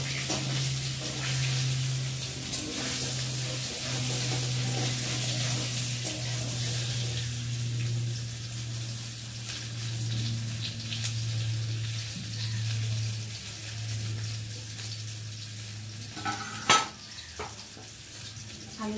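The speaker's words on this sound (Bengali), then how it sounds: "আর এখন এই যে কেটে রাখা আলুগুলোকে দিয়ে একটু ভেজে নেব।" Cut potatoes frying with whole cumin in a pan on a home stove, a soft steady sizzle close by with a constant low hum underneath and a brief clatter near the end, no voices.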